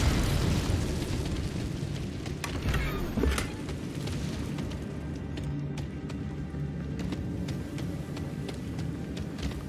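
An Incendio fire spell is cast at an old bridge in Hogwarts Legacy, giving a steady, noisy roar with a few sharp crackles early on that then settles into an even rushing wash.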